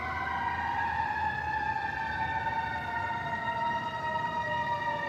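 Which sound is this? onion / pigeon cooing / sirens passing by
sirens passing by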